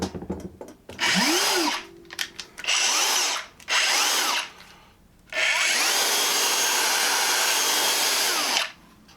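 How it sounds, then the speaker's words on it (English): A Dewalt 60V Flexvolt cordless mixer/drill runs in several loud bursts, each winding up in pitch, with short pauses between and a final long, steady run before it stops. "Let's test this out, mixing and drilling."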